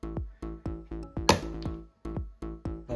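A YJ 4x4 puzzle cube being turned in a string of quick, crisp plastic clicks, close up, with one brief louder rattling snap midway.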